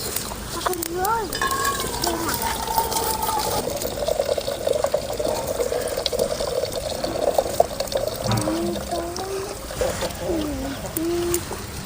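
Liquid from homemade banana stem soup being strained and poured, a steady watery trickle running throughout at close range.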